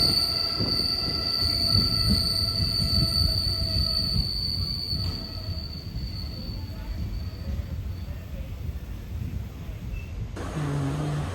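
Madurai Express train pulling into Kottarakkara station, a loud continuous rumble of rolling carriages with sustained high wheel squeal and rail screech, easing toward the end.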